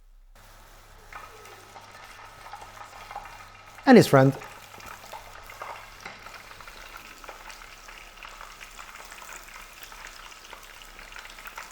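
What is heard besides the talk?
battered flowers frying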